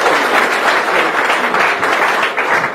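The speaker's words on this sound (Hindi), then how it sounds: "पहले इनके लिए बहुत सारी तालियां।" An audience applauds a volunteer at a motivational seminar, steady, close group clapping that holds evenly throughout.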